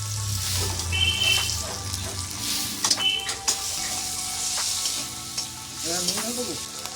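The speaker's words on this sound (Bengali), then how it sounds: "এই দেখুন টমেটো কুচির পরে এখানে আদা রসুনটাকে দিয়ে এর সাথে ভালো করে মাখিয়ে নিচ্ছি।" A spoon stirs chopped tomato with ginger and garlic paste in a frying pan, scraping and clinking over a steady sizzle, with a few louder knocks against the pan and faint background sounds.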